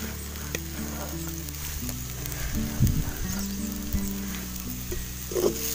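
Poha sizzles in a hot pan while being stirred, with a steady frying crackle and a few louder scraping stirs near the end. No one speaks.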